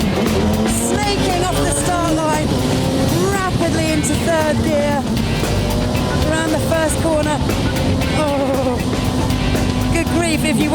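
A Radical race car snakes off the start line and accelerates hard into third gear. The loud engine note climbs in rising sweeps through each gear change and stays strong throughout, with a voice talking over it.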